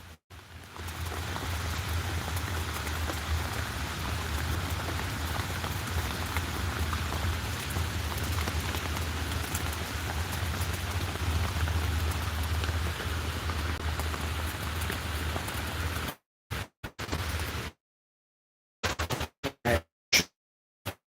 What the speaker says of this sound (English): Raindrops falling.